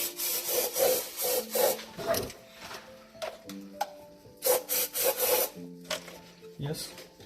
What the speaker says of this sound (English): Give it a wipe down with a rag because it'll still be very dirty.